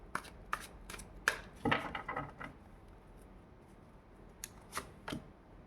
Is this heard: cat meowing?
no